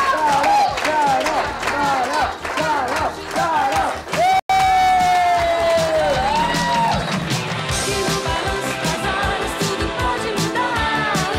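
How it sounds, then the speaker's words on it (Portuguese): A crowd cheers, yells and claps for the top student in a class, Carol, with voices and music-like tones mixing in a lively, sustained clamour that carries on for several seconds. "E agora, gente, vamos aplaudir a melhor aluna da classe, Carol!"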